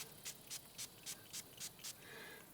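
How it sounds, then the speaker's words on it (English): Seven short, evenly spaced hissing spray bursts from an aerosol scent can onto yaupon, quiet and close, followed by a softer lingering hiss. "I'm going to spray a little on the yopon."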